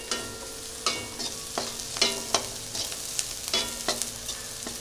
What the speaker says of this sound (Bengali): পেঁয়াজ ফ্রাই।